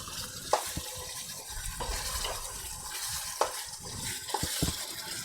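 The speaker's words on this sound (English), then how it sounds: "Then we're going to add 4 cups of water." Water pours into a cooking pot holding browned chicken and rice noodles, a close bubbling, sizzling rush broken by a few sharp clanks, with no talk.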